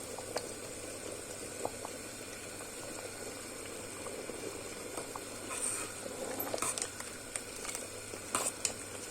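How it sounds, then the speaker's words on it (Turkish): Cabbage soup bubbling steadily in a pot on a home stove, a continuous low simmering patter with occasional faint clinks near the end. "Lahana da birazcık kaynayınca kapatacağım."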